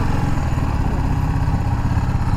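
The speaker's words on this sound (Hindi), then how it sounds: "ये आ गई हमारी बाइक अंदर" A TVS RR310 motorcycle rolls into a service centre, its engine running steadily with a low, continuous rumble that stays loud and close throughout.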